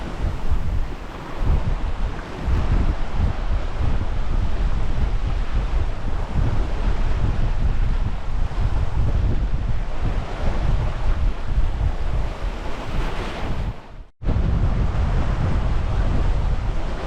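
Strong wind buffets the microphone over the rush and wash of waves as a sailboat crosses open sea from Tunisia to Sardinia in about 20 knots of wind, loud and continuous with a brief dropout near the end.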